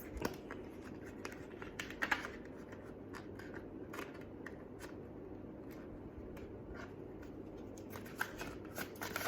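Sturdy oracle cards are shuffled in the hands, soft riffling and flicking taps running steadily and faintly close by with no talking.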